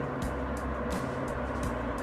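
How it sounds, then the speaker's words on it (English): Steady broadband whooshing roar of large ventilation fans running continuously in the fan room of Harecastle canal tunnel, with a low hum and faint periodic swells, no voices. "this is the fan room for the tunnel"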